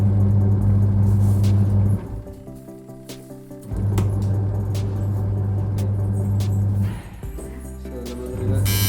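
A Samsung semi-automatic washing machine drum spins with a steady low hum and rumble that dips briefly twice before surging back, fairly loud and close, with no talk over it.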